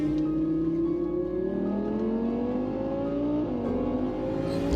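A rebuilt 2018 Audi R8 V10 Plus is driven for the first time. Its engine revs upward in smooth rising sweeps, with a brief dip as it shifts before climbing again, loud and continuous throughout.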